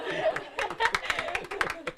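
A crowd applauds a girls' team at a school event, claps spread across the moment, mixed with chuckles and chatter from people nearby.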